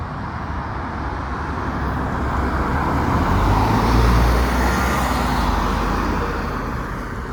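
Continuous roar of road traffic with vehicles passing close, a heavy rumble swelling midway as a large vehicle goes by.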